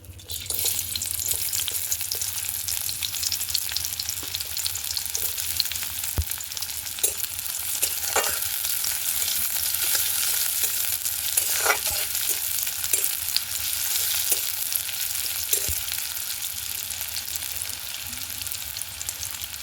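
Chopped onion greens sizzle and fry in hot mustard oil in a pan, a continuous loud crackling hiss with occasional stirring clinks and pops throughout.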